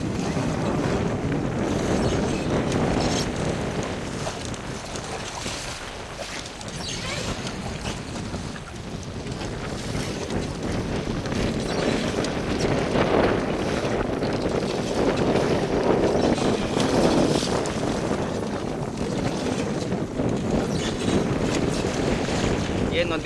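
A boat crossing a river near the Marichjhapi forest in the Sundarbans against a strong current and wind: a steady, loud roar of motor, wind and water that continues throughout.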